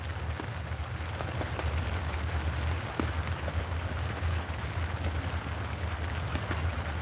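Steady outdoor rainfall in winter in Alamance County, North Carolina, patters onto trees and nearby surfaces as a dense, continuous hiss with a low rumble beneath, alone and with no voices.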